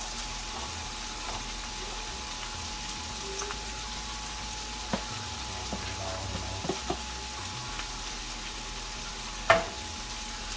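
Cauliflower rice frying in a pan with onions and garlic, a quiet continuous sizzle with a few sharp scrapes and taps from stirring, steady and fairly close, no talk.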